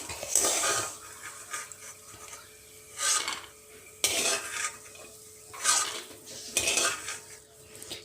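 A metal spoon scrapes fried peanuts out of a cooking pan onto a plate, making several close, rasping scrapes that come in short bursts with quiet gaps between them.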